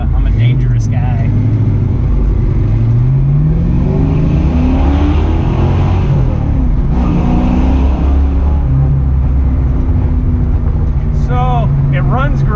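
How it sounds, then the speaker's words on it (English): The engine of a 1968 Ford Mustang California Special rumbles loud and close, with rising and falling rev sweeps as it pulls away and accelerates. Voices talk briefly under the engine noise. "Sounds like a Mustang. Let's hit it."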